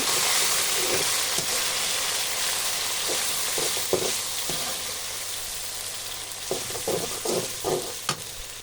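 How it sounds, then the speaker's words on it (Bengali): Mustard paste for a pickle being stirred in a frying pan, a steady sizzle broken by repeated scraping strokes of the spoon, close and without talk. "এবার নাড়তে থাকবো।"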